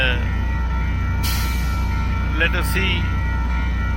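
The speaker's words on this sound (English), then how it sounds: "local train is also approaching on the second platform" A local train approaches a suburban railway station platform in Sunnyvale, California, heard as a steady low rumble with brief higher squeals and a short hiss, while someone talks over it.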